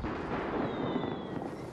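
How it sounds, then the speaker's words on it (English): Fireworks in the Fortnite video game crackle and rumble at a faint distance as a steady, noisy wash without clear separate bangs, and no one speaks. "Fireworks."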